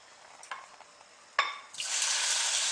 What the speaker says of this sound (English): Then I'm going to throw in the shrimp